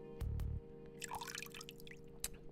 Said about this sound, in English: The sound of the running faucet can be heard from the bathroom.